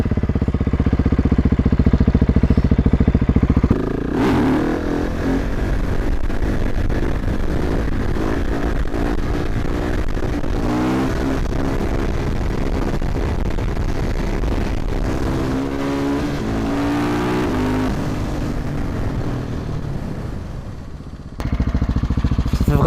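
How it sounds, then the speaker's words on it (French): A KTM 1290 Super Duke R motorcycle engine roars loud and close, its pitch climbing and falling through repeated hard revs and gear changes while accelerating toward top speed, with no talking over it. "C'est vraiment un bruit de tracteur, cette moto, c'est exagéré."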